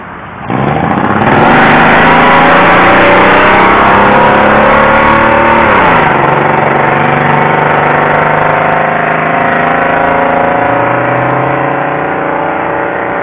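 A car engine revs hard and loud nearby on an urban street, rising in pitch then dropping and settling into a sustained high idle drone, with no talking.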